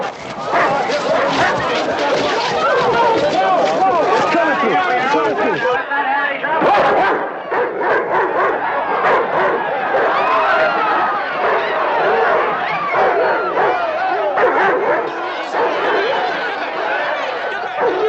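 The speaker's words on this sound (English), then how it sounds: "Get those dogs out of here!" Several dogs bark repeatedly and excitedly amid loud shouting and crowd chatter, the barks close and overlapping throughout.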